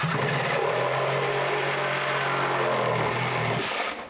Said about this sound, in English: Try to cut this somewhat straight.